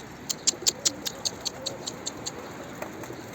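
A yellow-pied stray flight pigeon on a rooftop gives a run of soft rhythmic coos, louder at first and then tapering off, close by and alone.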